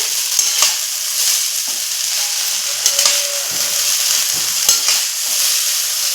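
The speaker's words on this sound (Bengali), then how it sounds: "এখন আমি উপর নিচ করে নাড়াচাড়া করে নিচ্ছি করে খুব ভালো করে নাড়াচাড়া করতে হবে" Chow mein noodles fry with a steady loud sizzle on a flat tawa while a spatula stirs and tosses them, giving scraping clatters every second or so; no one talks.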